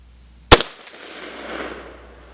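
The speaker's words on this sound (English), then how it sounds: "Last thing I want to do is shoot my chronograph." A single sharp, loud gunshot from a Handi-Rifle firing a subsonic 300 AAC Blackout reload with a 245 grain lead bullet, outdoors, followed by a short rumbling echo that fades over two seconds.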